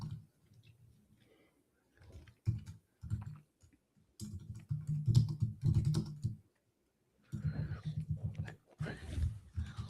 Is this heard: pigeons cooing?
no